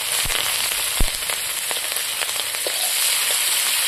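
Onions, green chilies and bay leaf drop into hot oil left from frying fish, hissing in a bright steady sizzle with sharp pops and crackles near the start, close up and without voices.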